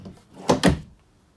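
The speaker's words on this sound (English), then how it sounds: "drawers" A drawer in a 2020 Grand Design Transcend Xplor 261BH travel trailer closes, two quick close thuds in a row, then quiet.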